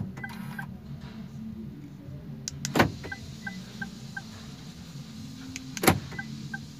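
Answer-back chirps from a 2020 Toyota Rush alarm as the car locks, with the chirp volume reported as too low. Two brief, fairly faint chirps sound about three seconds apart over a steady low hum.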